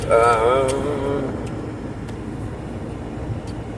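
Road traffic passes nearby, a steady broadband vehicle rumble that holds throughout at moderate level, with a brief voice near the start and a few faint clicks.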